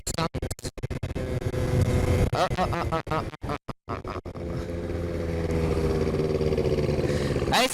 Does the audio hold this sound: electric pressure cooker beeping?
no